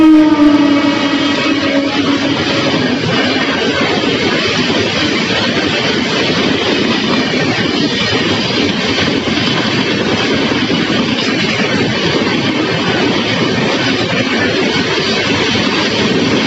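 The Telangana Express races through the platform at Mancherial railway station, a loud, sustained roar of wheels and rushing air that holds steady for over fifteen seconds, with a brief horn-like tone at the start.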